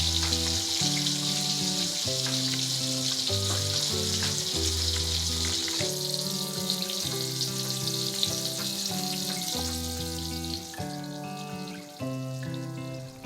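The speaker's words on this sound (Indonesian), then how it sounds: "lauk yang dimasak lumayan enak, yakni ikan kaleng dan tempe goreng." Canned fish and tempeh fry in hot oil with a steady, loud sizzle that runs the whole time, under a bed of music, with no talk.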